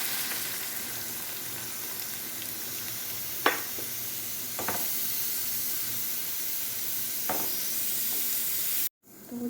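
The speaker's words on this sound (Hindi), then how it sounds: "अब मैं इसमें डाल देंगे टमाटर और ये जो मसाले थे वो सब कुछ सारे।" Tomatoes and spices sizzling among fried onions in a hot pan, a steady close hiss and frying crackle with a few sharp clinks of utensils, cutting off abruptly near the end.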